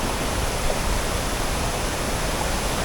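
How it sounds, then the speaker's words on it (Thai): A tiered waterfall beside a campsite at Bamboo Creek, Thong Pha Phum, gives a steady, dense rush of falling water that holds an even, close, loud level throughout with no voices. "ลึกเข้าไปข้างในอ่ะเป็นน้ำตกเป็นชั้นๆเลยครับพี่น้อง"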